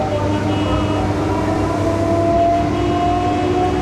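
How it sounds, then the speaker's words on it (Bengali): A steady, loud rumble of a Sealdah–Diamond Harbour local train leaving Uttar Radhanagar on a foggy day fills the whole stretch, with a faint whining tone riding over the continuous rolling noise. "ট্রেন ছেড়ে দিয়েছে উত্তর রাধানগর থেকে"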